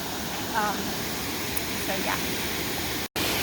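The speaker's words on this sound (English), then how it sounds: "So this is the bottom of the waterfall" A waterfall seen from its base, heard as a steady, broad rushing roar that fills the whole clip, with brief talk faintly over it.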